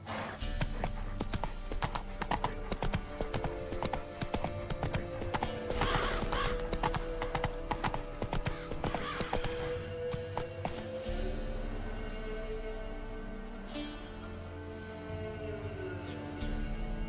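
Roach, a horse in The Witcher 3: Wild Hunt, gallops in a steady, loud run of hoofbeats that fades toward the end, where a rising siren-like tone and music carry on alone.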